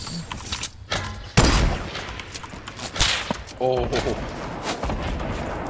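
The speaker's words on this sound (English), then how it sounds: "There's three nade launchers going." Grenade launchers fire repeatedly in Fortnite, with several going at once: a dense run of booming blasts and crackling gunfire over steady game noise, and a brief voice exclaiming near the end.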